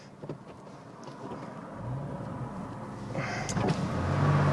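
The electric windows of a 986 Porsche Boxster S hum down with a steady motor whine that rises over a few seconds, close and fairly quiet.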